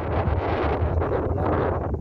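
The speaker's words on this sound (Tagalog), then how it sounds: "lakas na naman ang hangin" Strong wind gusts into the microphone outdoors, a close, rumbling buffet that swells and eases in quick pulses throughout, with no voices.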